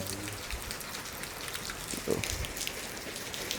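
Soft, steady rain pattering on a surface, fairly quiet and even throughout.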